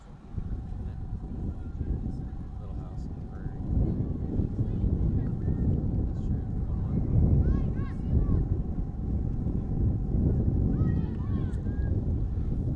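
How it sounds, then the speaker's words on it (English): Heavy prairie wind buffeting the microphone at a women's soccer match with a constant low rumble and gusts, faint distant voices of an outdoor crowd underneath. "Again, apologies for the wind."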